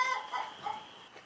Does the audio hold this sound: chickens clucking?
yes